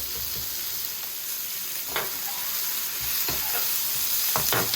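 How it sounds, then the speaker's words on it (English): Two medium onions frying in a pan over steady heat, a close, continuous sizzle with several scraping stirs and clicks of a utensil against the pan scattered through it, no talking. "These are just 2 medium-sized onions. And we just want to let those get a little tender, start to cook down a little bit."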